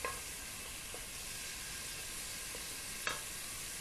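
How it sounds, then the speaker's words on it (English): Pork cheeks frying in a pan for a stuffed pumpkin dish, a steady soft sizzle throughout with a few faint clicks of stirring, quiet and close with no talk. "I'm gonna fry that off."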